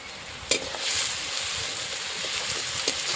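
Onions frying in oil for a potato curry, stirred with a spatula, giving a steady crackling sizzle broken by a few scraping knocks of the utensil against the pan.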